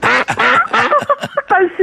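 Rapid string of loud, nasal duck quacks, close and choppy, about a dozen bursts in under two seconds, likely a voice imitating a duck.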